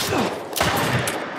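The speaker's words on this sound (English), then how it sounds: "Nice shooting, Tex." A brief burst of overlapping gunshots from The Last of Us, loud and dense under a continuous game soundscape.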